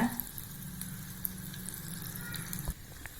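Mustard seeds, urad dal, fenugreek and cumin sizzle steadily in hot sesame oil in a pan for tamarind kuzhambu, a close, crackling hiss with scattered pops and a clatter near the end, no one talking.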